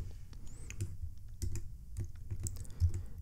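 Typing on a computer keyboard, a quick run of light, close key clicks in an uneven rhythm, fairly soft and heard alone without speech.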